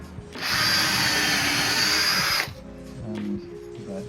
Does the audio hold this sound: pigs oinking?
no